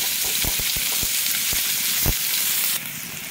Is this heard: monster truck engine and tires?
no